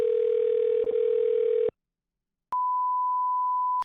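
A telephone dial tone sounds while a coin shop is being called: a steady low tone holds for under two seconds and cuts off, then after a short silence a higher steady tone begins and continues.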